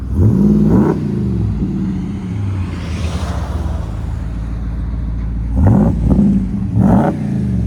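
A 2020 RAM 2500 with a 6.4L HEMI V8 running a Vibrant bottle resonator and resonator delete, revved loudly in short bursts near the start and again near the end, with a deep burbling idle between, close up and no talk.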